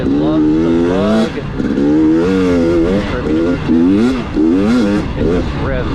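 A 2023 GasGas EX 250 two-stroke dirt bike engine revs hard and freely, its pitch rising and falling in quick bursts, close and loud, with a voice faintly underneath.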